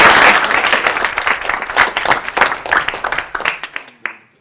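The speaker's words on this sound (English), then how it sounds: "save a little more applause for our tireless organizers, Lassie, Malcolm, Slava" A seated audience applauds at the close of an academic workshop, dense clapping that runs strongly for several seconds, thins into scattered claps and stops abruptly.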